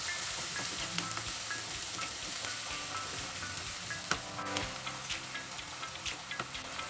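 Ground spice masala fries in hot mustard oil for an Odia prawn and potato curry, a steady close sizzle with repeated scraping stirs and small ticks throughout, no talking.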